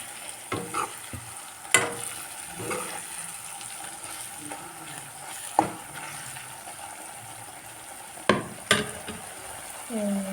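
Onions fry in hot oil with spices, ginger-garlic paste and bay leaf for a chicken dish, a steady low sizzle broken by several sharp spoon scrapes and clanks against the pan, close and clear with no talking.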